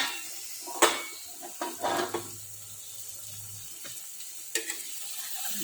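Food frying in a pan is flipped over: a few sharp scraping clinks of a utensil against the pan over a soft, continuous sizzle, close and with no voices.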